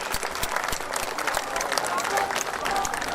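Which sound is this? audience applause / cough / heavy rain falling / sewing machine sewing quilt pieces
audience applause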